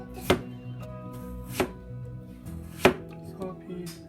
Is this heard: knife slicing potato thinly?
yes